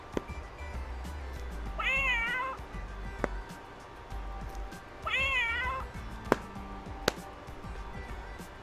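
Two distinct cat meows, each a short wavering cry, separated by a few seconds over a low background rumble with occasional sharp clicks.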